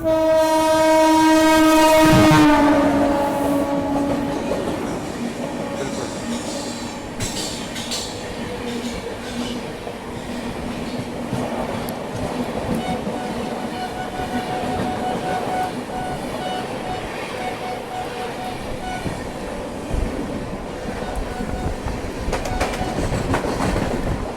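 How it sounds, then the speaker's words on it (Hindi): Shiv Ganga Express passing on the adjacent track: a loud, drawn-out horn blast up close, followed by a long, steady rumble and clatter of rolling coaches that continues to the end. "उस तरफ लग रहा है शिव गंगा एक्सप्रेस जो है वो आ रही है"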